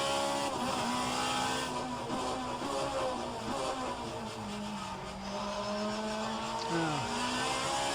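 The engine of an Alfa Romeo 155Ti racing car at Bathurst in a racing video game drones and rises through the gears. The pitch climbs and drops sharply at each shift, and it stays loud and continuous throughout.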